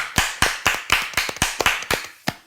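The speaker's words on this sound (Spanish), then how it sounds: "Aplauso" A handful of sharp, close hand claps land in an uneven rhythm, roughly ten in two and a half seconds, like a single person clapping, recorded during a church podcast.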